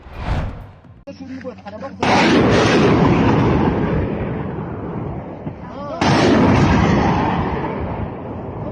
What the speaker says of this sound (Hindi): ताजिकिस्तान ने मल्टीपल रॉकेट लॉन्चर से भी हमला किया है।